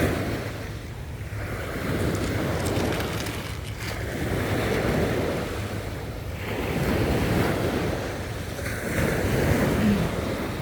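Sea waves roll onto the shore in slow, repeating surges, with steady wind rushing over the microphone; no voices.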